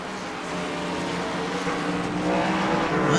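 Race cars roar past on a track in a steady, loud engine drone that builds slightly in intensity, with no talking over it.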